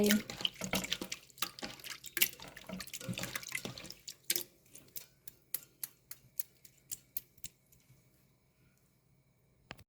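Tap water runs into a sink as raw liver is rinsed by hand, a busy wet splashing that thins after a few seconds into a series of separate drips and light ticks.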